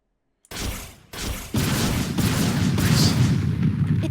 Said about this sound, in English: All cannons, fire!